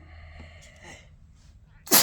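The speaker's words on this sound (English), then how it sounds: "Oh, I feel a sneeze coming up, so I'm trying to resist it." After a quiet pause at a card-making craft table, one sudden, loud sneeze bursts out close to the microphone right at the end.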